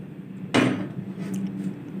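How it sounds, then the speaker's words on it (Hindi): A kadai (wok) set back down on the stove, a single close metallic knock followed by a quiet background hum. "दोबारा से कढ़ाई चढ़ाएंगे चूल्हे पर।"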